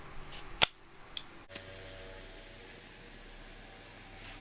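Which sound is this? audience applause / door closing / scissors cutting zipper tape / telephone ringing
scissors cutting zipper tape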